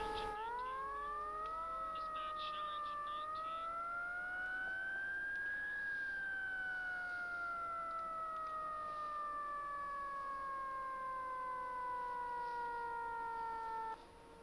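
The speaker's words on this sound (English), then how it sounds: "I hit the Q siren, my bad." Fire engine siren in a Roblox firefighting roleplay game, a long rising and falling wail that climbs and slowly descends over about fourteen seconds, loud and steady with no talking.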